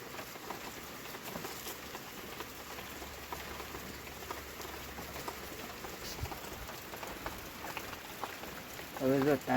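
Steady rain patters on surfaces outdoors as a continuous, even wash of drops, with a brief louder burst right at the end.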